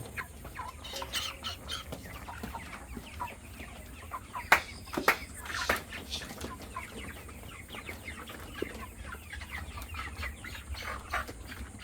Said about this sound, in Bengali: আমরা ছোট মুরগিটা ধরার চেষ্টা করতেছি।